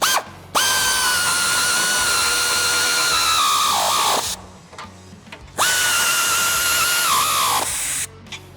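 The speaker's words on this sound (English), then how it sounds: "we're just gonna take an 18mm socket on a ratchet and tighten them up" A powered ratchet with an 18mm socket tightens front bumper bolts on a Jeep Wrangler JL, giving two loud close whirring bursts of about four and three seconds, each winding down with a pitch drop before a pause.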